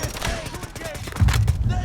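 Heavy suppressing gunfire in the shooter game Delta Force Mobile: dense overlapping rifle and machine-gun bursts crackle throughout, then louder booming impacts hit in the final second, close and intense.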